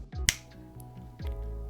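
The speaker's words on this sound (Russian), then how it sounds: "Сейчас по щелчку пальцев мы перейдем на звук с данного микрофона." A single sharp finger snap, close and dry, rings out near the start, followed by a low hum and a faint clicky room tone with no voices.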